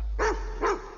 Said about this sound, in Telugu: చిత్తకార్తి కుక్క.